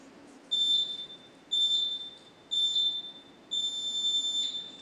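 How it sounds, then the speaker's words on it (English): Countdown timer at a town council meeting microphone sounding four evenly spaced electronic beeps, each about a second long, clear and moderately loud over quiet room tone. "You will hear a number of beeps"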